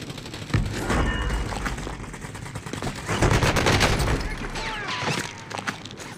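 Gunfire from a building in Call of Duty Warzone, heard as bursts of rapid shots and booming reports spread through the clip, with a busy, dense mix of game sounds.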